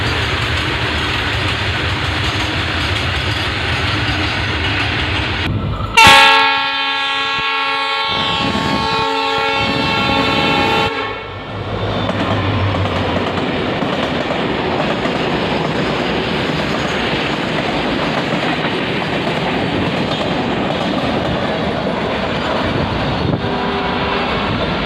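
A freight train on Indian railways, carrying an empty oxygen tanker to Bokaro Steel City, blows a loud sustained horn for several seconds over steady rolling rumble and wheel clatter from nearby passing railcars.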